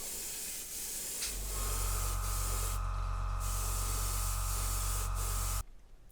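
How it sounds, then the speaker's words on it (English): An airbrush with its nozzle opened wider sprays a final paint coat onto a Revell 1/144 Flower Class Corvette model, a steady close hiss with a faint compressor hum that runs several seconds and then stops abruptly. "come back with the airbrush, open the nozzle up a little bit and get the final coat on the top"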